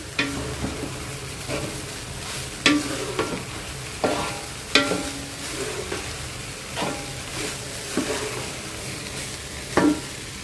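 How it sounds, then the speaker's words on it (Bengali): Fried rice with vegetables, chili sauce and tomato sauce being stir-fried in a pan, with a steady sizzle under repeated scraping and clacking strokes of a spatula, several sharp hits standing out, close by with no talking. "এখন হচ্ছে ভালো করে নাড়াচাড়া করতে থাকবো।"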